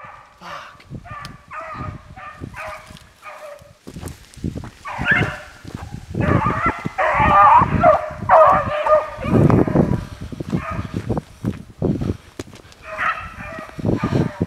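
Hunting dogs bay and yip in ragged bursts while chasing a rabbit outdoors, the cries swelling loud and overlapping midway, with a few words spoken at moments.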